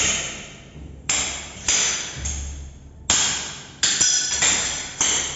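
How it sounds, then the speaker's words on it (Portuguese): A hammer knocks out tile leveling wedges from freshly laid porcelain floor tile, giving sharp, ringing taps at irregular intervals about half a second to a second apart. Each tap is close and fairly loud and decays quickly, with no talking. "Essa outra cunha, todo mundo já está acostumado, é só bater, ela sai."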